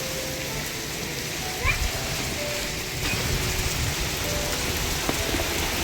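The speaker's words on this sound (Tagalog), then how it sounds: "Lakas talaga ng ulan." Heavy rain in Oman pours in a constant loud hiss, drumming nearby surfaces, with brief muffled voices faintly in the background.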